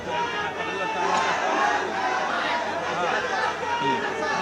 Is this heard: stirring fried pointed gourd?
no